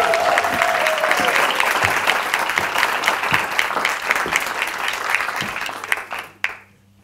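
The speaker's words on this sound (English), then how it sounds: "please give a massive, huge round of applause" An audience applauds loudly and steadily for the first speaker at a live speaking challenge, with dense clapping and crowd noise, before the applause quickly dies away at the end.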